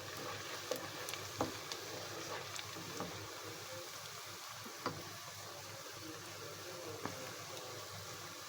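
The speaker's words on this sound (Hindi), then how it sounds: "अब हम इसमें खुश्क मसाला जात शामिल करेंगे और इसको थोड़ा सा फ्राई करेंगे" Onions and dry spices fry in a pan for kachnar keema with potatoes, a soft, even sizzle hissing throughout with faint stirring clicks now and then.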